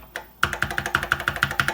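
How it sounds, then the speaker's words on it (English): A G keycap is pressed onto a vintage 1979 Apple II Plus keyboard. After a faint tap, about nine close, evenly spaced plastic clicks follow quickly, like rapid key presses. "I'm going to put it back on the keyboard."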